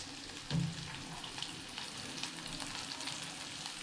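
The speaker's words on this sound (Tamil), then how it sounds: "பெரிய வெங்காயத்தை வந்து இதில் சேர்த்துக்கிறேன்." Chopped onions added to a pan for an okra stir-fry give a soft, continuous frying sizzle, faint and fairly even, with a dull thump near the start.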